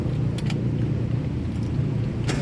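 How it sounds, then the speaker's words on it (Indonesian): A 2003 Suzuki Carry Futura 1.5 with a manual gearbox and its engine mounted under the seat starts up and settles into a steady, close, low idle rumble. Faint key or metal clicks sound near the start and the end. "Oke, sekarang kita coba nyalakan mobil."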